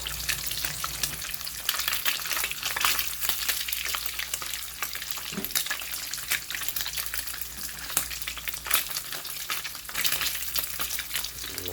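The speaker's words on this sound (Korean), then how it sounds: "스팸만 먼저 구워줍니다" Slices of Spam fry in a hot pan, a dense, continuous crackling sizzle close by with occasional brighter pops and a brief scrape partway through.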